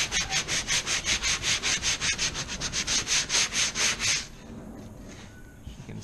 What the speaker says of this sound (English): So just sanding up that little repair that I did earlier.